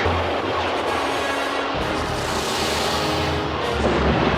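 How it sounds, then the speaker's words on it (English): Automatic repulsor guns firing in a battle from the film The Last Starfighter, a dense, loud continuous roar of booming blasts and rumbling explosions with no pause. "Activate automatic repulsor guns."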